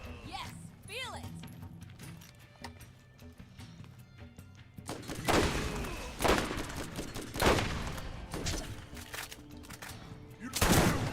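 Gunfire from the video game Borderlands, with loud bursts of shots that start around the middle and repeat in clusters over game music and effects. Voices shout over the gunfire.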